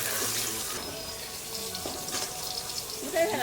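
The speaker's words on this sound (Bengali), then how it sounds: "মাছ এই যে ডুবিয়ে দেবো তেল।" Pieces of hilsa fish slipped into hot oil for a Bengali fish curry, a loud, steady, close sizzling hiss that fills the whole stretch with slight swells.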